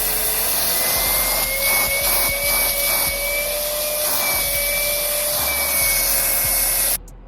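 EGO 9-gallon cordless wet/dry shop vac running on turbo mode, a loud, steady high-pitched motor whine with airflow roar and some rubbing noise, close by, cutting off abruptly at the end.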